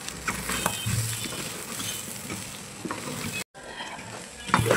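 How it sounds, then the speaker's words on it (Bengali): Rice frying in a pot for chicken biryani, sprinkled with powdered milk and stirred, a continuous sizzle with scattered scraping clicks, moderately quiet, a brief cut near the end. "তারপরে আবার একটু ভালোভাবে নাড়াচাড়া করে দিচ্ছি।"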